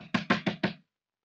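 Four sharp, evenly spaced knocks on a door, close and loud, followed by silence.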